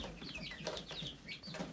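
Chickens in a coop cluck softly in a quick, irregular run of short calls, close but quiet, with no talking.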